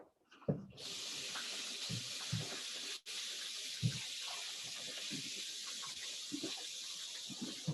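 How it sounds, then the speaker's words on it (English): Great Northern beans drained and rinsed in a kitchen sink, with a steady hiss of running water after a soft start and occasional knocks and clatters of the beans and colander, fairly quiet overall. "I'm just gonna drain those and rinse them."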